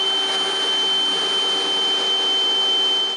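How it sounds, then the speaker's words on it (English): A power drill bores holes in wood while building a closed bookcase, a steady, loud motor whine with a constant high tone running unbroken for the whole stretch. "Drill the holes"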